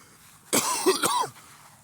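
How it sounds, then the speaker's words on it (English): A man with acid reflux gives one short, harsh cough-and-throat-clearing burst, close and fairly loud, lasting under a second against a quiet room. "If you hear me doing all this coughing and hacking and spitting and stuff"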